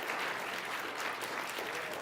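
Audience applause for a musician at a talk, a dense, even wash of clapping from a crowd, faint and distant, holding steady without voices.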